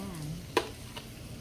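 Chicken-blood dinuguan being stirred in a pot, a soft scraping swish with one brief clink of the spoon against the metal, quiet and close over a faint background hum.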